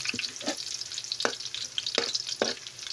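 Garlic frying in a pan, a steady faint sizzle with several sharp scraping stirs spaced through it, close and without talk.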